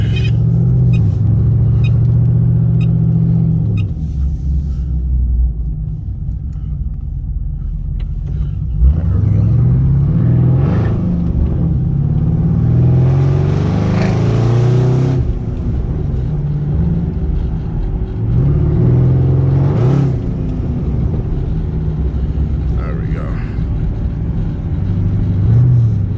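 Pontiac G8 GT exhaust heard from the cabin while driving, a steady deep rumble that swells into several loud revving pulls under acceleration, close and continuous with no talking.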